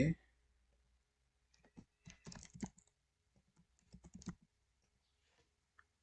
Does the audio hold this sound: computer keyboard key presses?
yes